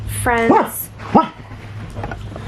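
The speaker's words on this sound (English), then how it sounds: "Excuse my dog." Dog giving a couple of short yips and whimpering barks close by, interrupting a person who is talking in a room.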